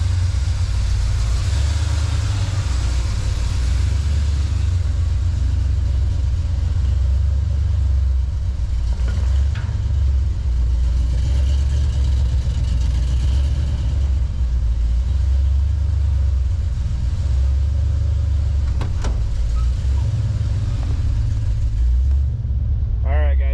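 The engine of a 1968 Plymouth Satellite, pulled from a scrap pile and running through its normal rear mufflers, idles as it warms up on the electric choke, giving a loud, steady, low rumble that runs unbroken throughout.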